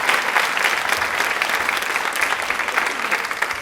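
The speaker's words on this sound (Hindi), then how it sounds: "तालियां एक बार जोरदार होनी चाहिए इनके लिए" Studio audience at a DD Rajasthan Women's Day quiz show applauding an award winner, with loud, dense, sustained clapping throughout.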